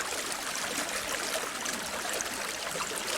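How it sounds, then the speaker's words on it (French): Water rushing steadily under a bridge in the countryside, a constant close, full hiss of flowing stream with no voices. "Je vais quand même terminer mon film avec le bruit de l'eau du pont autour de nous."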